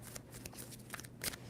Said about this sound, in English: 2 more shuffles for Scorpio.